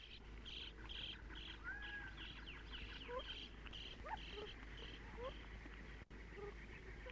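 A starling calls from an old nest hole in a saguaro cactus in the desert, giving a few scattered chirps and short whistles over a steady background of other birds and insects.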